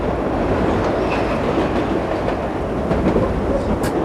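Simulated subway train in the World of Subways video game running on New York Line 7, a continuous loud rumble with clickety-clack of wheels over rail joints and a brief high squeal near the end, no voices.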